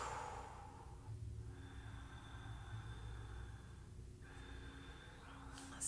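Slow, drawn-out breaths during a relaxation exercise, soft and close, rising and falling at an unhurried pace over a faint low background hum.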